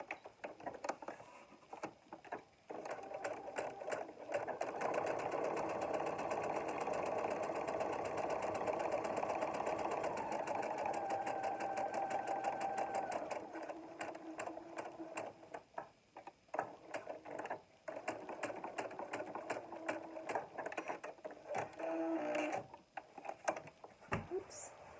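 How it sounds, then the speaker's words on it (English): A sewing machine runs steadily, stitching a rectangle of contrast fabric into a tube with a quarter-inch seam, its rapid mechanical ticking continuing for several seconds before slowing and stopping in short bursts; quiet, close, with no talk. "Now I'm sewing the contrast fabric, the rectangle. I'm sewing it into a tube"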